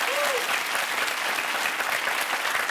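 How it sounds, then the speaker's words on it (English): Steady applause from a large TV game show studio audience on Millionaire Hot Seat, dense continuous clapping throughout with a brief tonal note near the start. "Give her a big round of applause."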